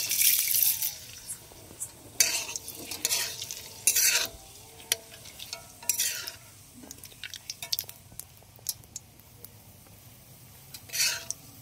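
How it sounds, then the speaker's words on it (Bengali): Sugar hits hot oil in a pan for a desi red rooster chicken curry, sending out bursts of sizzle between scraping stirs, with quieter stretches in between. "তেলটা আমাদের গরম হয়ে গেছে, এর মধ্যে দিয়ে দিচ্ছি চিনি"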